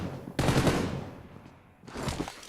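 Automatic gunfire in a PUBG team deathmatch tournament, fired in two loud bursts with a short pause between them.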